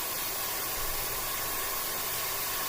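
An airbrush sprays thinned paint in a steady, even hiss that holds at a constant level throughout, close to the listener, with no voices.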